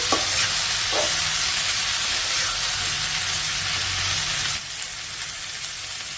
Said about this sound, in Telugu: ఈ చిక్కుడుకాయ ముక్కల్ని ఇలా కలుపుకుంటూ మీడియం ఫ్లేమ్లో ఒక 2 నిమిషాలు ఈ పోపుతో పాటు వేగనివ్వాలి